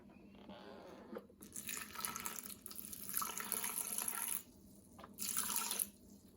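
Water from a tap runs into a container of melted butter for a fish pie sauce, a steady splashing stream with brief pauses and changes in flow, close by and without talk.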